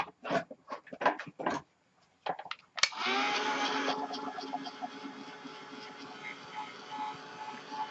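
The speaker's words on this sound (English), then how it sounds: "Okay, I'm going to hit this with the heat gun." A heat gun blows hot air to dry ink on an iCraft explosion box craft project, starting abruptly after some brief speech and then running as a steady, loud, close whooshing roar to the end.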